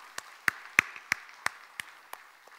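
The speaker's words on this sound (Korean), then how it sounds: "우리 귀한 간증 다시 한번 뜨거운 축복의 박수 하겠습니다" About eight slow, evenly spaced hand claps from a church congregation ring out in a quiet room, fading toward the end.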